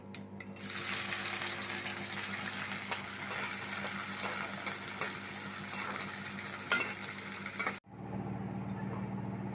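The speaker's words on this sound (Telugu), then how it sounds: "ఇప్పుడు ఎర్రగడ్డ 3 ఎర్రలు చిన్న ముక్కలు కట్ చేసుకుని ఇందులో వేసుకోవాలి" Three small-chopped onions dropped into hot oil with cumin seeds for a dhaba-style egg masala curry, a loud continuous sizzle with light stirring that cuts off abruptly near the end, leaving a quieter hiss.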